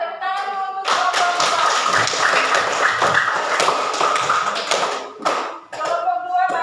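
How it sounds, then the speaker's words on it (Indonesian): A classroom of students applauds a presenting group, a burst of dense, close clapping that runs for several seconds and then tapers off, with a few voices mixed in. "tepuk tangan dulu untuk kelompok"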